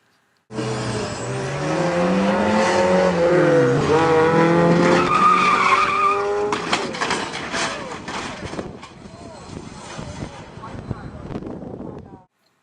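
Race car tires skidding and squealing during a pit stop accident, loud and close, with engine noise, while a voice talks over the first half, then clattering impacts.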